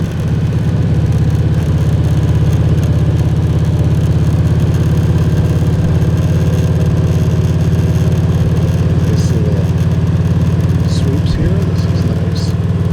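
A car travels at about 35 miles per hour along a rustic gravel road in northern Wisconsin, giving a loud, steady engine drone and road rumble with a few light crackles of stones.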